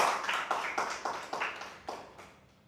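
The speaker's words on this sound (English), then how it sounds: "can we have a huge round of applause for Vishnu sir as well?" A small group at a chess school awards ceremony claps for a guest, giving sparse, uneven handclaps that come in a few distinct bursts and trail off toward the end, fairly quiet and without talk.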